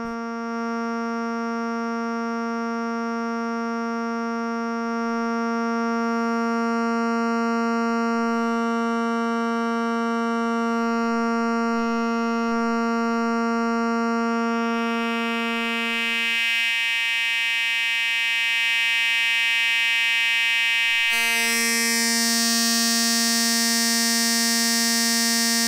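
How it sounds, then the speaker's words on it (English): A Synthesis Technology Morphing Terrarium oscillator feeds a Eurorack harmonic mixer in VCA mode, giving a sustained, buzzy harmonic drone whose overtones gradually shift and brighten, with abrupt timbre changes near the end, loud and continuous with no talking. "Here's our friend the Morphing Terrarium from Synthesis Technology."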